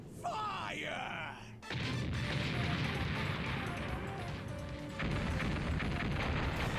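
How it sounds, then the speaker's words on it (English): A ship's port cannons fire in a Mega Man Legends cutscene, a sudden heavy crashing barrage bursting in after a shouted line, with booming rumble sustained beneath music and a second surge near the end. "All port cannons, prepare to fire!"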